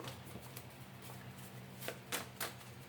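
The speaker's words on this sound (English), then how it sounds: "Let's shuffle this a little bit" Tarot cards being shuffled by hand, a soft quiet riffling with a few sharper snaps near the end, close and alone.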